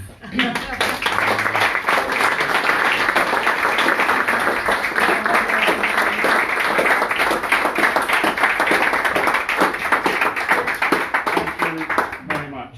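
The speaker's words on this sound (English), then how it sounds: "Round of applause." A meeting audience at an annual general meeting gives a sustained round of applause, loud and close, with dense clapping that holds steady for several seconds before tailing off.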